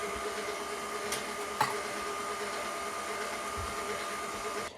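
An electric hand mixer whirs steadily through pumpkin roll batter with vanilla added, a continuous close motor hum with one brief clack partway through and no talking.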